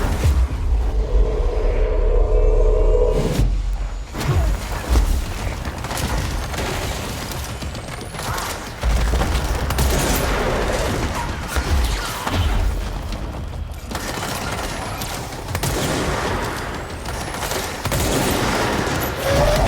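Dense, continuous gunfire from the video game Control, rapid bursts and heavy booming impacts layered into a loud, sustained fusillade with little let-up.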